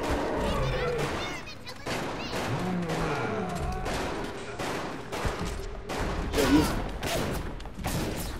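Shotgun blasts and gunfire in the video game Bioshock come in rapid repeated bursts over dense game audio, with a voice talking over the action.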